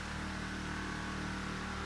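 A car engine in a racing video game drones steadily and loudly throughout with a sustained, even hum and no talk over it.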